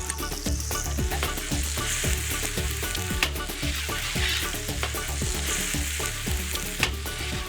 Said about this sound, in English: Once the sofrito is fragrant and beginning to brown, add the bamba rice.